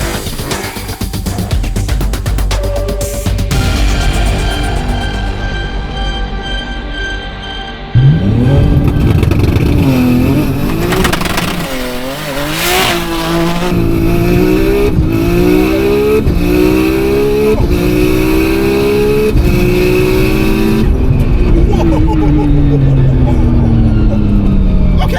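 A Nissan R34 Skyline GT-R at Dezzi Raceway in Port Shepstone revs hard and accelerates fast through several rising gear pulls, loud and close, with a brief clatter before the run; no talk is heard.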